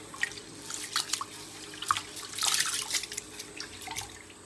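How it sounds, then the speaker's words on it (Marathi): Basmati rice is washed in clean water, with quick splashes, drips and swishing close by, busiest around the middle. No one speaks. "असा स्वच्छ पाण्याने धुवून घ्यायचा आहे राईस।"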